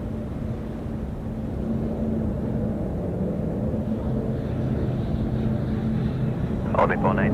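A Cathay Pacific Boeing 747-8 in retro 80th-anniversary livery rolls for takeoff at Sydney Airport, a steady low broadband engine roar from a distance with a brief higher whine near the end.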